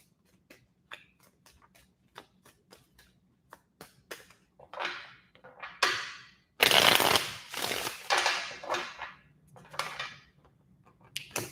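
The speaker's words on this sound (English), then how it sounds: "Let me finish shuffling here." Tarot cards being shuffled by hand, starting with scattered light taps and flicks, then building into dense riffling bursts up close, with quieter handling between them.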